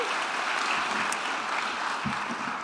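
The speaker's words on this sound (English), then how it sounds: "Let's have a applause for them." A church congregation applauds at a midweek all-church gathering, a steady dense wash of clapping from a large room that holds at even loudness throughout, with no voices over it.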